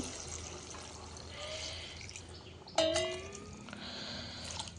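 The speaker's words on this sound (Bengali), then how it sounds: "গরম পানি দিয়ে দেই" Hot water poured into a cooking pot of braised desi chicken curry, a short splashing pour breaking in partway through over a steady kitchen background, fairly quiet and with no talk.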